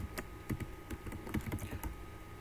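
Rapid, irregular keystrokes on a computer keyboard while typing an email, close and moderately quiet, with short pauses between clusters of taps and no talking.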